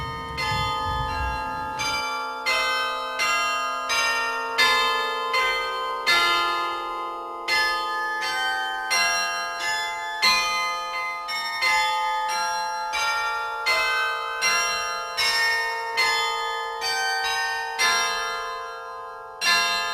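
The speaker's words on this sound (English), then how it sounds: "keeping the bells in Old Main Tower ringing again" Tower bells at Westminster College's Old Main Tower peal in a steady, repeating sequence of bright, ringing strikes, each tone lingering and overlapping the next, loud and continuous with no voices.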